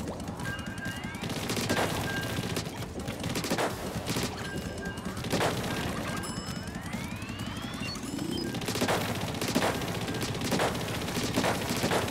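Rapid, sustained ink weapon fire in Splatoon 3, a long stream of quick shots rattling on almost without pause, with bright electronic game tones and swooping effects layered over the steady barrage.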